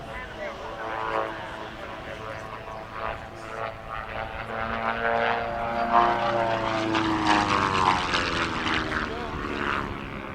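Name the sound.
light propeller aircraft flying at airshow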